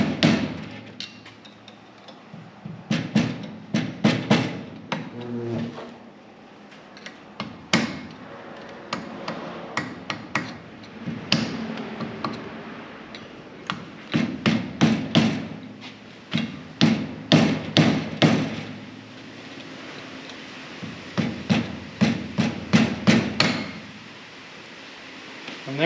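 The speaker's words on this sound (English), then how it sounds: "and then you can hammer it home." Sharp metallic hammer blows ring out in quick bursts of several strikes each, separated by short pauses, close and loud, as a tight brake part is driven into place on a 1966 Ford Mustang.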